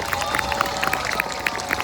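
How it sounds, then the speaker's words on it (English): Brief applause from an outdoor crowd at a community Christmas tree lighting ceremony in Altadena, scattered claps and a few sharper hand slaps at moderate distance, lasting under two seconds. "give a round of applause to them"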